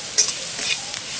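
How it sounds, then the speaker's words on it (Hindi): Spices with turmeric powder roasting in a pan for poha chivda, a bright hissing sizzle with one sharp scrape of the spoon near the start. "तो इसमें हम दो चम्मच हल्दी पाउडर डालेंगे। इन सभी चीजों को हम अच्छे से भून लेते हैं।"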